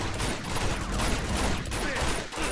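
Dense, continuous gunfire rattles through a firefight in Uncharted: The Lost Legacy, a loud, unbroken wash of shots and impacts with no clear pauses.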